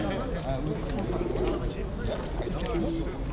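Pigeons of many breeds, including crested ones, coo repeatedly at a busy pigeon market. Their soft, rolling calls overlap against a constant crowd murmur and background voices.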